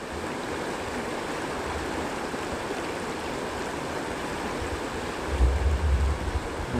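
A waterfall pours into a forest river, a steady hiss of rushing water throughout, with a brief low rumble of wind or handling noise near the end and no talk.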